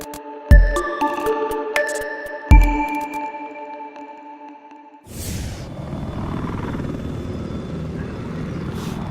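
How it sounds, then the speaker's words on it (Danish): A helicopter in the Battlefield 4 video game, heard first as two sharp synthetic tonal stings, then a steady loud rotor and engine roar that fills the second half with no talking. "Vi har en helikopter, 2 helikopter left side"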